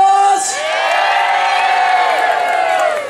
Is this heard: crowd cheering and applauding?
yes